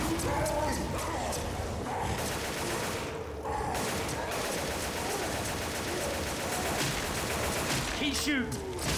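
Rapid gunfire in the Left 4 Dead video game, dense bursts of shooting running continuously throughout with shouting voices talking over it.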